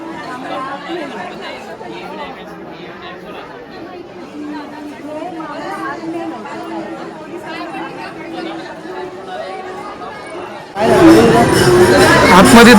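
A dense crowd of devotees at the Tulja Bhavani temple in Tuljapur, babbling and chattering close around, swelling abruptly louder near the end; a nearby voice talks over the hubbub.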